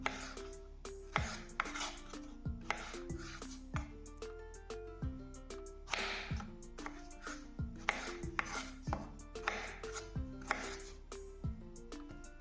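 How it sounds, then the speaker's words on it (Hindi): A knife chops onion finely on a board for homemade tinda sabzi, tapping in a fast, steady rhythm of many crisp strokes that runs throughout over soft background music. "इसको हमने प्याज को बारीक बारीक इस तरह काट लेना।"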